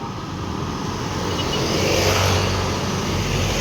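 A Suzuki Raider 150 FI motorcycle engine runs after a general overhaul, giving a loud, close, steady hum that swells slightly mid-way, with no talking.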